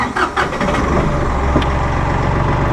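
A Massey Ferguson 1835M or 1840M eHydro compact tractor engine idles in a steady, smooth, low hum, heard close with no talk over it.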